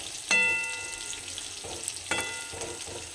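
Chicken pakora sizzles in hot oil in a pan, a steady frying hiss with two sharp bursts as pieces are stirred or added, close and alone with no talking.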